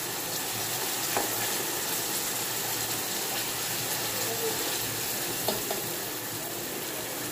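Oil heats in a pan on a stove, giving a steady, soft hiss and crackle with a few faint pops. The sizzle stays even throughout and is heard alone, without talking.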